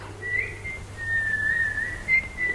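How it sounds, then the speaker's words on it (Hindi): A shrill whistle blown in short bursts and longer steady blasts, moderately loud over a low hum, in a crowded 1946 Indian drama scene where a queue is forming. "ये सीटी की आवाज, इसे डर लगता है।"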